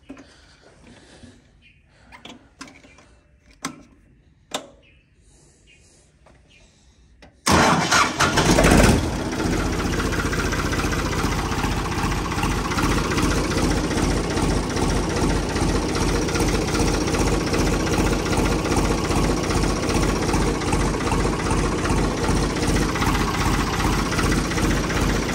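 Tractor engine cranking over and catching after a few faint clicks, then settling into a loud, steady diesel idle that runs on for about eighteen seconds with a slight rhythmic chug.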